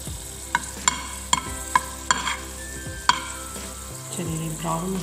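Garlic frying in oil until dark brown, a steady sizzle under a series of sharp metallic taps and clinks of a spoon against the pan, close and fairly loud.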